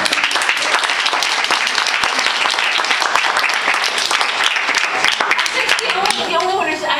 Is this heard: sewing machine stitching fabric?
no